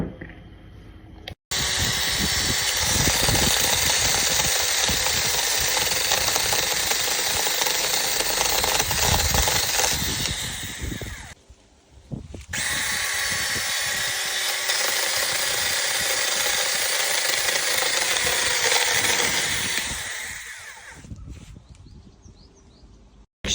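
A small handheld saw for household and garden use runs with a loud, steady engine drone for about ten seconds, cuts out briefly, then starts again and runs for another ten seconds before stopping.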